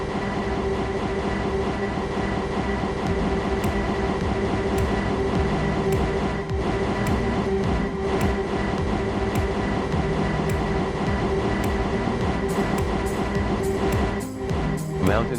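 Train running on a Minecraft Transit Railway line in a video game, a steady loud rumble of wheels and motors with faint rhythmic rail clicks throughout, no talking.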